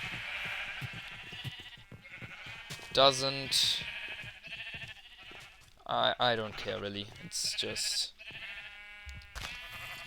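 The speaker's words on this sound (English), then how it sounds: "I have enough sheep in each section." Sheep in the Minecraft video game let out a couple of short, clear bleats amid steady nearby talking.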